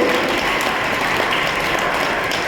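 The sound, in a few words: audience applause for the Mumbai brothers and sisters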